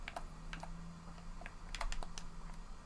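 Someone types with one hand on a computer keyboard, giving quiet, uneven clicks and taps at a moderate pace over a low steady hum, with no talking.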